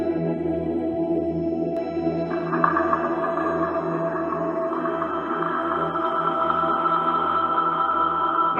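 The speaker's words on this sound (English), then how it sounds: "I added some tape echo there to kind of to add more of a space feeling to the sounds" Synthesizer sounds run through a Roland Space Echo tape echo: layered, sustained drone tones with a slow pulsing low end and a brighter echoing shimmer that swells in after a couple of seconds, steady throughout with no voices.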